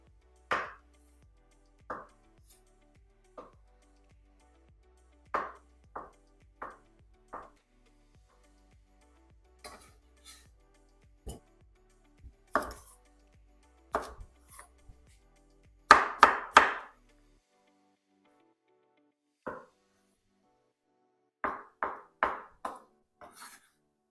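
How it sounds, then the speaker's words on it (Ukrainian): Knife chopping vegetables into medium cubes for a fish and green pea salad, sharp sparse knocks on a cutting board, single chops and brief rapid runs with pauses between, close and otherwise quiet. "Усі продукти я буду нарізати середнім кубіком."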